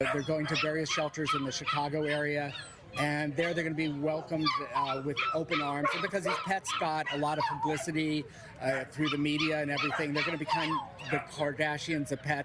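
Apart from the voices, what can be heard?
dogs barking excitedly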